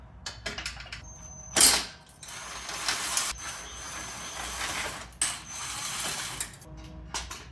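Screws come out of a Jeep XJ headlight assembly with a hand tool, giving quiet ratcheting clicks and mechanical whirs in short bursts, one louder metallic burst early, close and with no speech.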